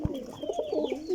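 Pigeons at a pigeon sale give a quick run of soft, rolling coos, close and clear, with faint background noise.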